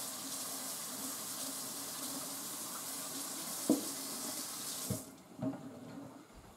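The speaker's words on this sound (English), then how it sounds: "Wash off your spatula because you just dropped it like a dumbass" A dropped spatula rinsed under a running kitchen faucet, a steady broadband rush of tap water with a few knocks and clatters of the utensil before the flow cuts off near the end.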